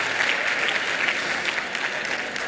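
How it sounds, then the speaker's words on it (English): Audience applause at a multicultural apprenticeship awards ceremony, a dense, steady clapping from a full room sustained evenly throughout with no voices over it. "all of you, I think, need a round of applause as well"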